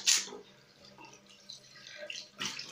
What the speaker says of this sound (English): So this is how I wash my forehead.